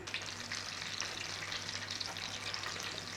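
Cabbage, bacon and mashed potato pancake rolls fry crispy in a pan, giving a steady, close sizzle with constant crackling and spitting and a faint low hum underneath.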